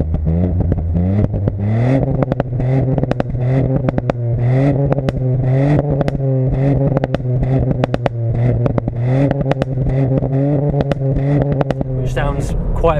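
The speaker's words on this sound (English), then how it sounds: "It's got a louder exhaust." A 2018 Ford Fiesta ST's engine and louder exhaust rev loudly and close by, holding steady droning tones that step up and down in pitch with repeated sharp pulses throughout.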